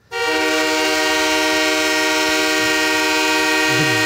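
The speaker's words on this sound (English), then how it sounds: "Yeah, it kind of has a sound of a train going by." An old Wabash train horn sound effect blares as one loud, sustained chord, starting abruptly and holding steady for several seconds, close and alone without speech.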